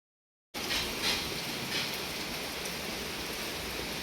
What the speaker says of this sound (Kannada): ಸಖತ್ ಮಳೆ, ಹೆವಿ ಮಳೆ ಬರ್ತಿತ್ತು.